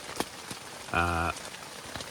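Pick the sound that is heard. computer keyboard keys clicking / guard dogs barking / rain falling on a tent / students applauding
rain falling on a tent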